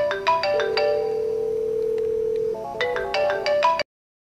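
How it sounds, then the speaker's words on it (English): A Polycom desk phone and an iPhone ring at once in an office, a melodic ringtone pattern of repeated chimed notes, loud and clear, stopping abruptly. "both his desk phone and mobile phone are ringing"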